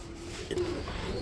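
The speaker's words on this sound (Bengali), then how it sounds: "এ হচ্ছে বিউটি কবুতর ব্লু বার কালারের মধ্যে" A brief, soft coo from a blue bar Beauty pigeon rises once over a steady background hum, with no other clear calls.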